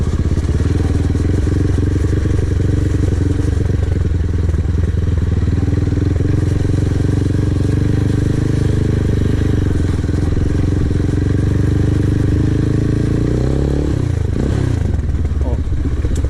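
A Chinese-made sports bike, styled like a touring bike, rides over a rough, difficult road, its engine droning steadily and loudly throughout with clattering and thumps from the bumpy surface.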